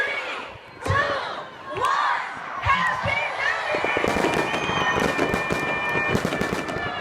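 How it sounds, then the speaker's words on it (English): Rapid crackling pops and bangs of New Year fireworks and firecrackers burst repeatedly, with a crowd shouting and cheering throughout. "It's only tradition to welcome the new year with family, friends, food, and of course, fireworks."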